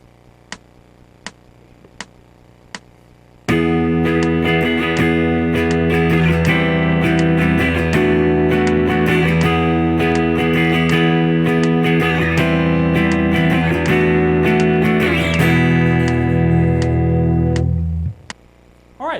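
Guitar strumming a finale-style ending progression built on E-shape chords, loud, distorted chords sustained and shifting for about fifteen seconds after a few quiet ticks, then stopping abruptly.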